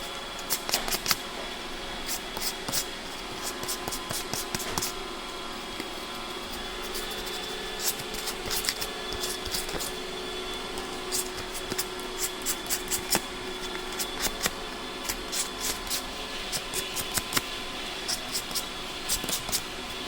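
Hand sanding of a custom lock key pin with sandpaper: irregular bursts of quick, dry scratching strokes, fairly close, over a steady background hum, with no talking.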